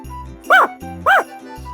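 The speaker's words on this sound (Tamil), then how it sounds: "தாத்தா சொன்ன மாதிரி நாய் வந்துருச்சே" A cartoon dog in a Tamil fairy tale barks twice in quick succession, sharp and close, over a soft musical background.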